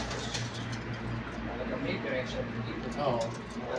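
Pigeons coo softly in a breeder loft in Dammam, Saudi Arabia, a low murmur running steadily under nearby conversation.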